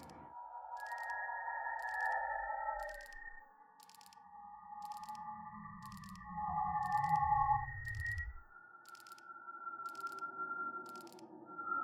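An eerie sonar-like signal downloading in the video game Signal Simulator, with evenly spaced rhythmic pulses over sustained, shifting electronic tones and a slow sweeping drone, moderately quiet and without talk.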